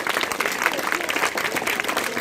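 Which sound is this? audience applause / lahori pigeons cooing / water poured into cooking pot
audience applause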